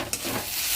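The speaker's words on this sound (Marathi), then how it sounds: "कांदा परतून झाल्यावर यात ढोबळी मिरची, गाजर, कोबी हे सर्व टाकून परतून घेणार आहोत" Sliced onion, capsicum, carrot and cabbage sizzle and are stirred in a hot pan for a momos filling, a short close frying hiss with a clack of the spoon.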